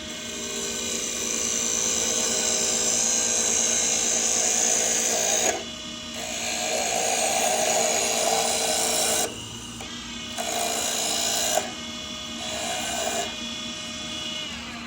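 A wooden piece on a lathe is cut with a gouge, giving a steady, close rasping hum. The cutting sound drops out briefly several times and then returns.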